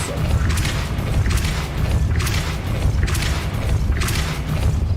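Repeated Depulso force spell casts in Hogwarts Legacy, heard as four evenly spaced whooshing bursts over a constant loud rumbling bed, close and forceful with no talk.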